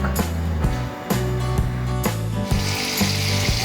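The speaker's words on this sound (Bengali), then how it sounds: "হোয়াইট তেল দিয়ে আমি চিংড়ি মাছগুলোকে ভালোভাবে ভেজে নেব।" Prawns frying in hot white oil in a kadai, with a bright sizzle beneath rhythmic clattering and tonal mechanical strokes repeating about every half second, close and fairly loud.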